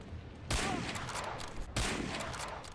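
Two sharp, loud gunshots ring out about a second apart in the Medal of Honor Breakthrough video game, each followed by a short decaying echo.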